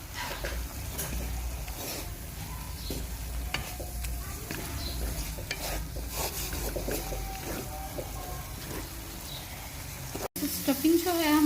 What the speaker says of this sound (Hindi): अब हम इसमें चिकन को ऐड करेंगे और साथ ही हम ऐड करेंगे इसमें सिरका। अब इसको पकाएंगे अच्छी तरह से।